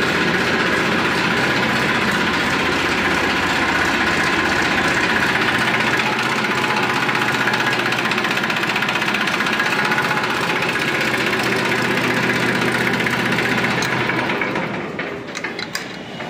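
A Massey Ferguson 1035 tractor engine idles after a cold start, a loud, steady, close diesel chug that runs unbroken before fading slightly near the end.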